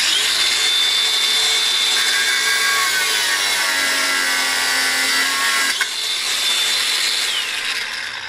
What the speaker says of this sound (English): I'm just going to nick it off with the angle grinder